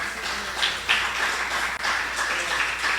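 Church congregation clapping for the Lord during a Spanish-language sermon, a dense, steady crowd applause with repeated hand claps, fairly distant and continuous throughout.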